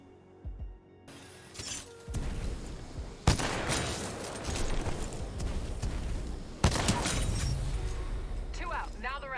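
Sniper rifle shots in Titanfall 2 multiplayer, two sharp, loud cracks several seconds apart over constant game noise and a busy soundscape, with a voice speaking throughout.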